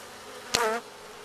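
A single honeybee buzzes briefly and close at a beehive where bees are feeding, a short loud drone against a quiet background.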